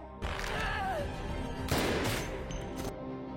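Gunfire in a film action scene, with a gangster shootout, a pistol shot as a sharp burst over a dense, loud soundtrack, a second crash of impacts following midway through.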